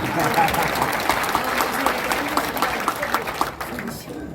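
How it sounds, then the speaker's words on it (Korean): Audience applause fills a large hall during a political church rally, dense steady clapping mixed with crowd noise throughout, fading slightly at the end. "지금이라도 박수를 쳐줘서 감사드립니다."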